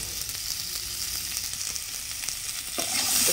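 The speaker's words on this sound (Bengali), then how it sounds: "তো চলো ভালোভাবে ভেজে নিই আলুগুলো।" Potatoes seasoned with salt and turmeric powder fry in a pan over a village wood-fired stove, giving a constant close hiss and sizzle that swells louder near the end, with no talking.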